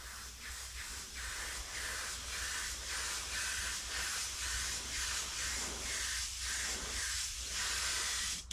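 Wicked Colors W018 Wicked Gloss Black paint sprayed in coats onto a homemade emblem: a steady, close airy hiss running throughout with a gentle pulsing rhythm as the stream sweeps back and forth.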